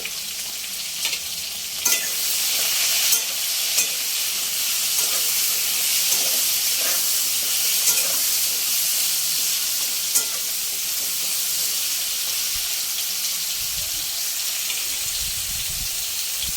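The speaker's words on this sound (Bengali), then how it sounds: "এক চামচ লবণ আর হলুদ দিয়ে ভালো করে ভেজে নেব" Steady sizzle of pointed gourd frying in oil with salt and turmeric, with occasional clinks and scrapes of a utensil stirring the pan, close and continuous.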